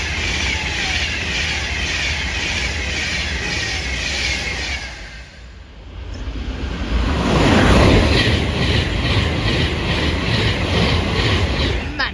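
Avanti West Coast Class 390 passenger train from London Euston to Liverpool Lime Street passing a station platform, steady rolling rumble with rhythmic wheel clatter, dipping briefly then swelling louder as carriages rush by.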